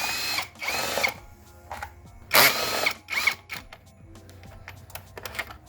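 A power tool whirs in short bursts while undoing two 10mm screws on the engine cover of an Alfa Romeo/Fiat 1.4 turbo, the spurts separated by clicks and small mechanical rattles up close.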